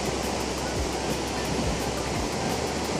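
Hunua Falls near Auckland, a roughly 30-metre waterfall, roars steadily in a dense, unbroken wash of falling water, loud and continuous throughout.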